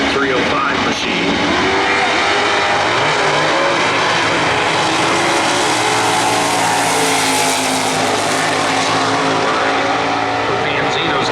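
A Superstock L Automatic Monte Carlo 305 makes a drag racing pass at a Norwalk points race, producing a loud, sustained engine roar that fills the whole stretch without letup, rising and falling slightly as the car runs.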